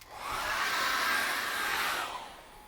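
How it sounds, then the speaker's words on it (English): A hair dryer drying acrylic paint blows steadily for about two seconds, a loud airy whoosh that rises in, holds, then winds down. "I'm going to dry this with a hairdryer."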